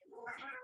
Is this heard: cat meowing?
yes